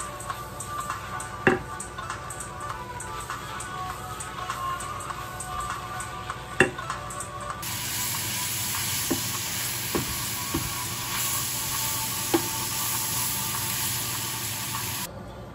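Onions soften in a pot with salt, a low steady sizzle running throughout with occasional sharp clicks and knocks of a utensil, growing slightly brighter partway through; no one speaks.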